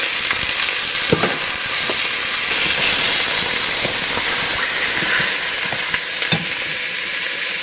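Bacon-wrapped chili cheese dogs seasoned with salt, pepper, garlic and onion powder fry in a pan with a loud, steady sizzle and hiss, broken by occasional sharp pops and crackles, close up with no talking.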